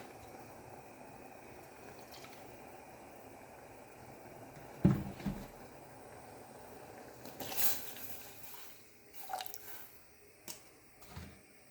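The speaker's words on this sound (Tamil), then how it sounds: "இப்போ நம்ம பால் ஆட் பண்ணிடலாம்." Milk is poured into a pot of water boiled with dry ginger, a faint simmering bubble in the background broken by a sudden splash and a few sloshing pours.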